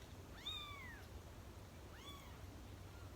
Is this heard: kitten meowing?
yes